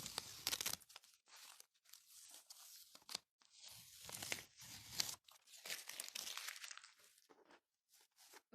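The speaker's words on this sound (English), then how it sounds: "Let me just remove the tape so that I can show you what we made today." Tape peeled and torn away from a natural pigment painting during a live art workshop, producing close, crinkly ripping and crackling in irregular bursts with short pauses between them.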